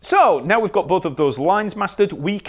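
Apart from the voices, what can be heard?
No everyday noises stand out.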